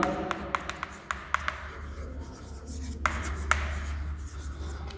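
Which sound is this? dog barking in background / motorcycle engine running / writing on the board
writing on the board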